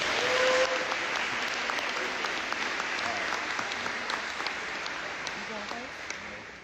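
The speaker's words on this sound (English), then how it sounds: "Let's give the coaching staff a big round of applause." Steady applause for a coaching staff from a sizeable crowd at a college football National Signing Day event, even and sustained throughout, heard from a moderate distance with faint voices mixed in.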